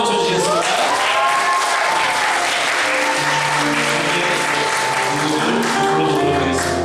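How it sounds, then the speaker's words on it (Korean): A church congregation claps steadily in time at an Easter worship gathering in Prague, accompanied by piano. The dense, continuous clapping runs through the whole stretch, blended with piano music and voices. "우리 박수 한번 쳐주시겠습니다"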